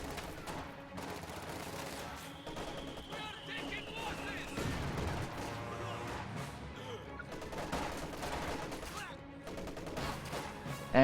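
An MG-34 machine gun fires in a World War II strategy video game, its rapid bursts mixed with scattered shots and explosions of a busy battle, moderately quiet under a commentator's voice.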